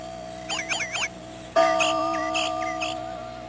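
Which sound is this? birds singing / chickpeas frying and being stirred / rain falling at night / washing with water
birds singing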